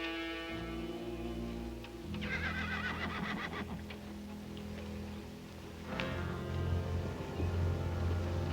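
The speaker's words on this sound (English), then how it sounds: "Tell Dobie to get the horse." A horse whinnies loudly in a western film scene, with long repeated neighs and a snorting finish, and faint hoof clops and rustling heard between calls.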